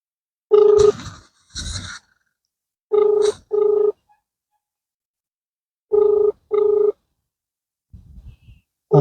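A telephone rings through a call, repeated electronic tone bursts in pairs separated by silent gaps, clear and close with no talking over them.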